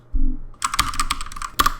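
Brief burst of typing code on a computer keyboard while building a REST API with Node and Express, a single thump followed by a quick run of close, crisp key clicks, with no voice.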